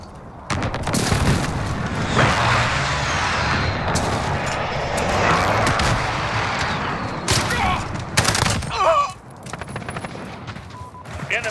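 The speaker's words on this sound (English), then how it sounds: "Allied precision airstrike incoming." An allied precision airstrike in a military shooter video game, a long barrage of rumbling explosions and gunfire-like bursts lasting several seconds, loud and dense, with sharp cracks toward the end.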